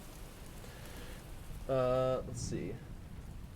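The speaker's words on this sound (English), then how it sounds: "the sounds of rain and everything would be quieter since you're inside" A soft rain sound effect patters steadily in the background, muffled as if heard from indoors, while a person speaks briefly over it.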